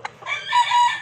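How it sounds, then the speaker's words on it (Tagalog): A gamefarm broodcock rooster crows once, close and loud, a short rising call that holds steady and then trails off, with a brief cluck just before it. "ang gandang manok nito"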